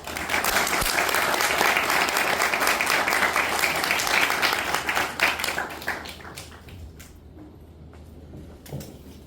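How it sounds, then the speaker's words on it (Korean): Loud applause from an audience welcoming a guest lecturer at a university architecture talk, strong at first, then thinning out and fading to a few scattered claps near the end. "큰 박수로 최현철 수석님을 맞이하도록 하겠습니다"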